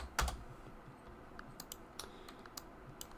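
Quick taps on a computer keyboard, a handful of light clicks spaced irregularly over a low steady background hum.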